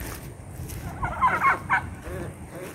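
A jungle chicken on a small farm gives a burst of rapid gobbling, clucking calls mid-clip over faint outdoor background noise, moderately near and fairly quiet.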